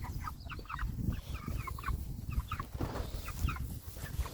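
Chickens inside a chicken tractor cluck and chatter continuously at close range, a busy, overlapping flock murmur with short bursts of higher calls over a rustling outdoor background.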